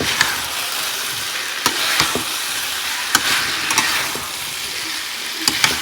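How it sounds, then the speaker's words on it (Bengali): Soaked potatoes and soybean chunks fry in spiced oil with a loud, steady sizzle close up, broken by sharp intermittent knocks and scrapes of a spoon stirring the pan. "এবার আগে থেকে ভিজে রাখা আলু আর সোয়াবিন দিয়ে দেবো দিয়ে একটুখানি কষিয়ে নেব"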